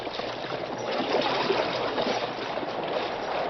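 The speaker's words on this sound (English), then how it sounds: "The mighty paddle wheels whipped the water into white foam." Steamboat paddle wheels churn the river into foam, a steady broadband wash of rushing, splashing water that holds at an even, fairly close level throughout with no talk.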